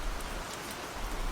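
Steady, dense rainfall hisses evenly across the whole stretch, a constant close wash of drops pattering on surfaces with no voices or other sounds.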